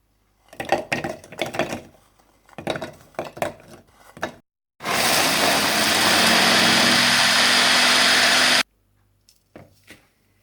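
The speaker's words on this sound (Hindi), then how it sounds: "बिस्किट को चॉपर में डालकर अच्छी तरह से चॉप कर लें" Electric chopper grinds biscuits for a cheesecake base in one loud, steady whir lasting about four seconds, set between bursts of clattering taps and rattles of crumbs in the bowl before and after.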